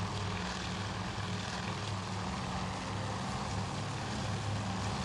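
Steady, dense propeller-engine drone of a warplane flying through clouds in the naval combat game Task Force Admiral, a continuous loud hum with a low throbbing pulse and no voices.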